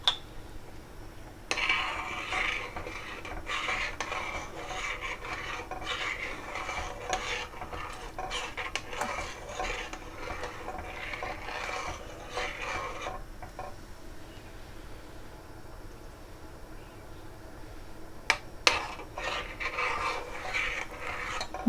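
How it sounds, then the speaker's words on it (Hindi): Eggs being stirred little by little into a pot of chicken corn soup, a soft steady scraping and rubbing of a utensil that runs continuously at moderate level, with a few brief louder clinks near the end. "अंडों को थोड़ा थोड़ा सा करके हमने डालना है और मिक्स करते जाना है।"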